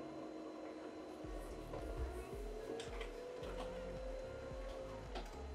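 A Brother L2520D laser printer printing a page: a steady low mechanical hum with rhythmic clunks and a rising whirring tone as the paper feeds through, close and moderately quiet, with no talking.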